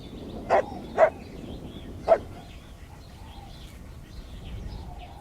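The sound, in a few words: dogs barking and whining in video game The Last of Us Part II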